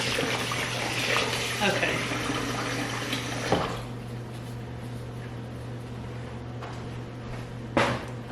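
Tap water runs steadily into a kitchen sink while limes and oxtails are rinsed and drained, a constant close splashing stream with a couple of sharp clunks, and one short spoken word.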